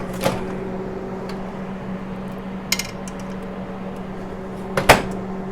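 Apple crostata dish placed into a combination microwave oven, with a few clunks and clinks of the dish and door against a steady low oven hum, close by and otherwise quiet.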